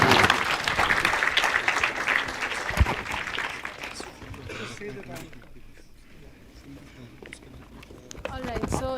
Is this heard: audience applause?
yes